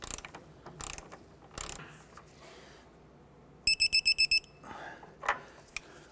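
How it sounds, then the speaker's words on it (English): A torque wrench tightening a pivot shaft bushing nut on a 1994–2004 Chevrolet S10 front upper control arm: a close ratcheting of clicks and metallic knocks, then a quick run of sharp clicks as the wrench reaches torque. "Let's go ahead and torque down the nut here to"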